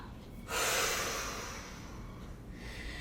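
During a yoga forward fold, a long audible breath rushes out in a single steady exhale, close and soft, then trails off into quiet room tone.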